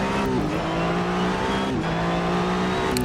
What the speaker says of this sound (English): So in my headphones the car is super loud.